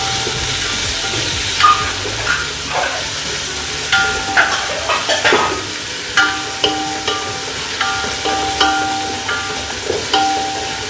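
Capsicum frying in a hot pan for a kurma bhaji gives a close, even sizzle with repeated clicking stirs and scrapes of a spoon against the metal.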